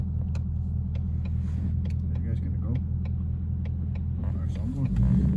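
A 2019 Ford Mustang GT California Special's engine hums in a low, steady rumble while the car takes a turn at about 15 mph, with a slight swell near the end.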